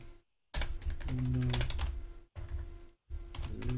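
Close, brisk typing on a computer keyboard, a few quick bursts of clicky keystrokes separated by short silent gaps, heard alone without talk.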